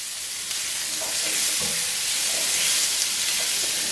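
Pot roast searing in a hot pan, a steady loud sizzle with hiss and faint stirring or scraping touches underneath, continuous throughout.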